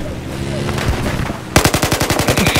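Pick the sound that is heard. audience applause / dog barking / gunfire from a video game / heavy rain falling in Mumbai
gunfire from a video game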